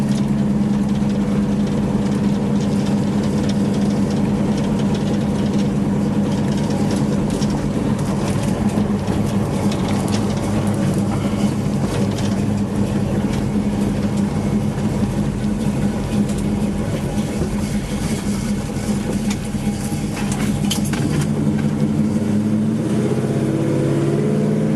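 A car engine hums loud and steady while driving, its pitch sliding up and then resetting as it shifts gears, close up and continuous throughout.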